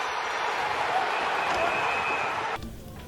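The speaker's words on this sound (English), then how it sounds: "Again, here's the boos from the crowd." A dense, sustained roar of booing rises from an ice hockey arena crowd for about two and a half seconds, then cuts off abruptly.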